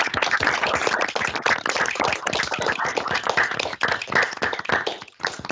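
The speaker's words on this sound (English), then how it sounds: "Can I ask everyone who's still with us maybe just to unmute themselves briefly and give Nick a round of applause in the kind of traditional fashion" Online seminar attendees unmuting to clap together over a video call, a busy, compressed mix of many overlapping hand claps coming through close and fairly loud, thinning briefly near the end.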